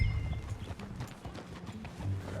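Video game horse hooves clip-clop at a steady walking pace in Red Dead Redemption 2, close by, with a low rumbling ambience underneath and no talking.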